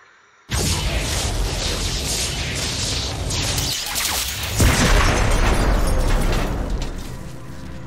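Explosions tear through a power structure in the StarCraft II video game, a sudden loud blast followed by sustained rumbling destruction with a second surge midway, heard alone without talk.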